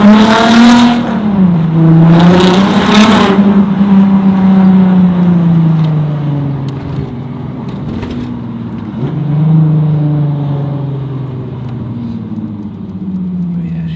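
Car engine with plenty of torque revs hard and pulls through the gears, a loud, close, rising drone that dips and climbs again, heard from inside the car with no talk over it.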